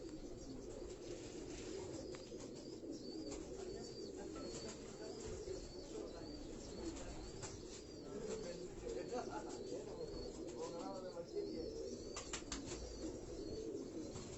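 Meerut gola pigeons coo on a Karachi rooftop loft, soft repeated calls over steady low background noise, with occasional chirps and wing flaps and a few distant voices.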